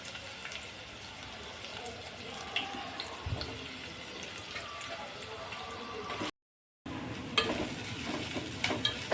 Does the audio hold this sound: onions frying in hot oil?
yes